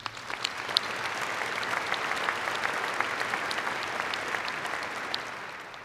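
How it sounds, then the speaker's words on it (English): Applause from a university commencement audience, many hands clapping in a dense steady patter with a few sharper claps standing out, sustained and moderately loud throughout, no voices. "Let's give our staff a good round of applause."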